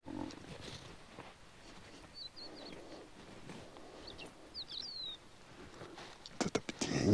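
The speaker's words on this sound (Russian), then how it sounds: "Вот это пение птиц, какая красота." Birds sing at sunset on a beach at Blagoveshchenskaya near Anapa, heard as a few faint, scattered high chirps over quiet outdoor ambience. A louder rustling burst comes near the end.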